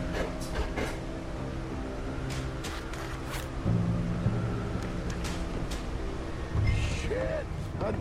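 Train approaching in Red Dead Redemption 2, a low rumble of engine and rolling wheels building under steady ambient noise, with distant hiss and brief whistle-like tones.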